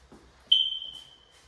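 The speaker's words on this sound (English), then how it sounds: "Sorry about the twerping fire alarm." A single sharp, high electronic chirp from a smoke alarm with a low battery inside an Arizona house, sounding once nearby and ringing briefly before fading in a quiet room.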